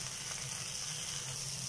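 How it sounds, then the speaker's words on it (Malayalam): Water is added to baked beans simmering in a pan, giving a steady, soft sizzle and bubbling hiss that stays fairly quiet and even throughout. "ഇതിലേക്ക് ഞാൻ കുറച്ച് വെള്ളം കൂടി ആഡ് ചെയ്ത് കൊടുക്കുകയാണ്."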